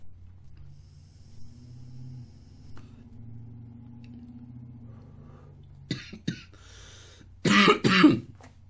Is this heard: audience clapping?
no